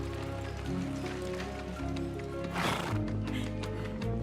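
A horse neighs loudly with a burst of whinnying mid-clip, alongside steady hoof clip-clops on a hard surface and some rain-like background noise.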